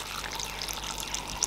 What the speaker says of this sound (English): Now I'm going to be adding some water.